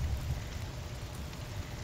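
Rain falls in the survival video game Don't Starve, a steady, low, diffuse patter running the whole time with no voices over it.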